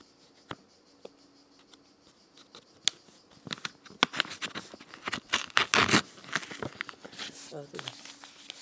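Paper and plastic wrapping around a magazine is torn and crinkled open, starting with sparse faint scratches and taps, then building into dense rustling and ripping near the end, with quiet speech in places.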